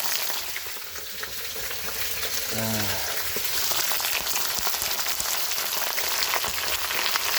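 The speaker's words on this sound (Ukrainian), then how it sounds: "Ось і шкварчить." Pork fat (salo) sizzles and crackles steadily in a frying pan, a constant close hiss with scattered pops, and a brief scrape of stirring early on.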